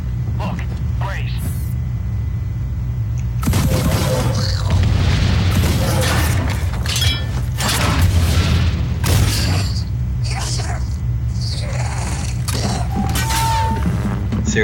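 Gunshots crack at a firing range in The Bureau: XCOM Declassified, loud irregular bangs and booms over a low rumbling background, with someone talking in between.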